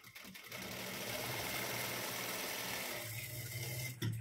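Electric sewing machine running steadily while stitching a cross strip on a blouse, a continuous whirring hum with a brief stop and restart near the end.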